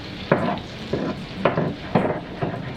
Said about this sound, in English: we're going to kind of just mix that around until it's browned up a little bit